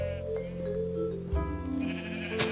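Sheep bleat in the Minecraft video game, with a few short synthetic calls over a steady tonal background of game music, close and moderately loud.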